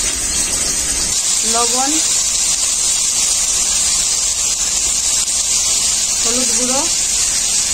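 Small cut potato pieces frying in well-heated oil, a loud constant hiss and sizzle filling the scene while someone talks over it.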